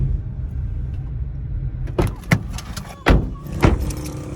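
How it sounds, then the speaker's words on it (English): Remote locking of a new car in a parking area: a few sharp electronic chirps and clunks of door locks ring out in quick succession over a low background hum, fairly close. "Feels good to be able to lock a car on a button again"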